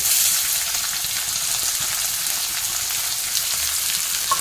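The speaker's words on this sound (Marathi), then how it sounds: "कांदा पण तेलामध्ये चांगला परतून घ्यायचा" Chopped onion frying in oil makes a constant dense sizzle, loud and near, with faint stirring clicks and no voices.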